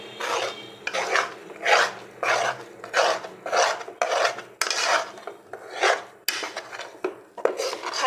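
A spoon scrapes and stirs thick besan halwa in a pan while sugar syrup is poured in bit by bit, making rhythmic rasping strokes about once per second, close and fairly loud.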